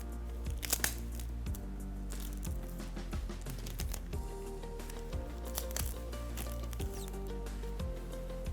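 Adhesive tape is pulled and pressed over bandages on a chest wound, giving soft crinkling and sticky tearing crackles up close beneath steady background music.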